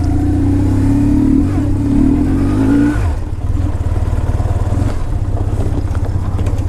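A 2004 BMW R1150GS Adventure motorcycle engine revs while being ridden: a loud climbing drone rises for about three seconds, drops sharply as the revs fall, then settles into a steady, throbbing engine rumble.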